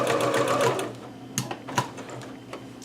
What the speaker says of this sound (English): that finishes my gathering stitch